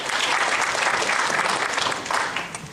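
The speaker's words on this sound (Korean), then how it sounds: "다시 한번 박수로." An audience at a national labor activists' assembly applauds a presenter, a short, dense, even burst of clapping from a crowd that eases slightly near the end.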